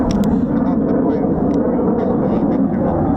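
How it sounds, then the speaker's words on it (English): Typhoon fighter jets over an air weapons range at RAF Holbeach, a loud, steady, broad jet roar filling the whole stretch with faint voices and wind noise on top. "Just love Typhoons out in the wild."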